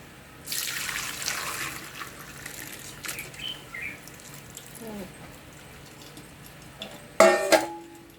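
Hot water runs into a sink while chicken liver is rinsed and strained, a soft steady stream with splashes, a few small clinks and a louder sharp clatter near the end.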